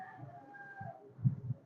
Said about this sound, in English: So this is why you hear the roosters in the background